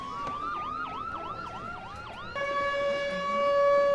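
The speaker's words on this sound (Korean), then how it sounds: "갑자기 사이렌 소리가 울려오고" A siren wails in fast rising and falling sweeps, then shifts to a steady high-pitched tone, growing slightly louder as it continues.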